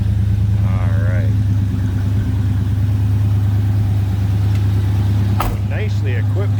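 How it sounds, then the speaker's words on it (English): A 350 V8 in a 1986 Chevrolet C10 Silverado shortbox truck idles with a steady, low rumble throughout, close and continuous, with a brief clunk near the end. "A little rumble coming out of that 350."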